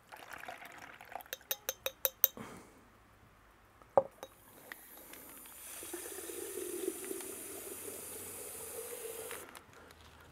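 Tomato seeds being rinsed under a running tap, a steady hiss of flowing water lasting several seconds, preceded by a quick series of light clicks and a single sharp knock.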